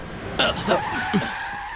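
A car's tires skid to a sudden halt, a short screeching squeal with shifting pitch that rises over a rumbling engine and then fades, while voices speak briefly.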